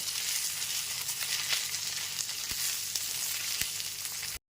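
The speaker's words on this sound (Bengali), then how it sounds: "এবার টমেটো টুকরোগুলো খুব ভালো মতো একটুখানি ভেজে নেব" Tomato pieces frying in a pan of hot oil make a steady, close crackling sizzle broken by a few sharp stirring knocks, with a brief dropout near the end and no voices.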